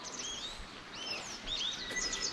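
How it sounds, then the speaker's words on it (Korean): Birds sing in a mountain setting in Gapyeong, Gyeonggi-do, Korea, giving several bright chirps and short whistled phrases at moderate distance over a soft, steady outdoor background. "오랜만에 듣는 새소리입니다"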